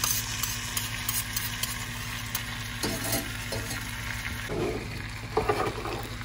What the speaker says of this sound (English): So you added the butter and the garlic, and it's cooking pretty good right there